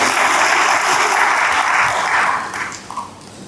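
A church congregation claps together in praise, a dense, loud wash of applause that holds steady for a few seconds before thinning out and fading near the end.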